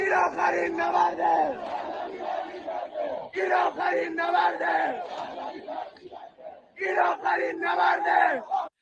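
A crowd in Iran chants a political slogan for the return of Pahlavi in loud, rhythmic bursts of massed voices, with three chant phrases separated by brief pauses.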